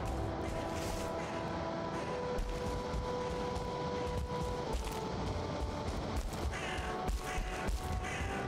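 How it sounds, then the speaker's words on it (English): A crow caws repeatedly in the Valheim video game. The harsh calls ring out over a loud, constant ambient game soundscape with steady droning tones. "I thought I heard a ping. Probably a crow."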